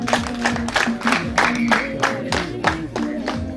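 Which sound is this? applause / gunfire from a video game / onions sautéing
applause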